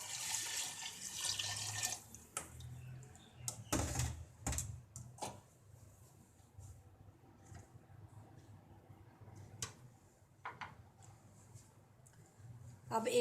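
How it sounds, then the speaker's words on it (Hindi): Water pours from glasses into soaked moong and masoor lentils with fried spices in a pot, a soft splashing pour followed by quiet clinks and knocks under low background sound. "पहले हम 2 गिलास पानी डालेंगे।"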